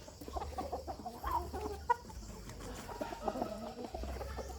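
Young Burmese fighting rooster clucking in a rainy-season farmyard, several soft, short clucks scattered through the clip over steady low background noise.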